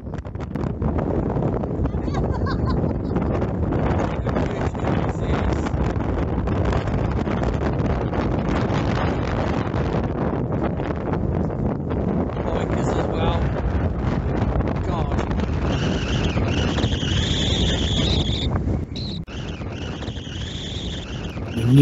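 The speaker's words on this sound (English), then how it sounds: "As you can hear, the wind is absolutely ferocious" Ferocious wind roaring across the microphone on a scooter ride through the Scottish Highlands, a constant loud buffeting rumble that eases only briefly near the end.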